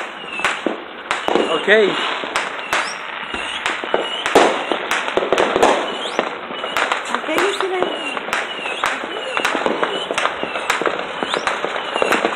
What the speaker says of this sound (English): They're going off, boy. Let's go. Shoot them all into the sky.